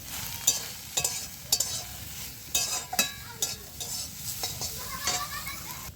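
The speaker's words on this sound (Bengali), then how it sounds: "এবার ভালো করে আমি এটা ভেজে নেব।" Soybean chunks fry in a pan seasoned with salt and turmeric, a sizzle broken by repeated sharp clacks of a spatula stirring against the pan at irregular intervals, close and fairly loud.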